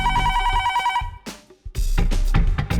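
A telephone rings over and over in loud, steady bursts, first as a continuous tone, then after a short pause as a series of sharp repeated rings.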